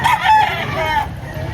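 A rooster crows at a chicken market in Lipa, Batangas, a single short call heard up close against a busy background.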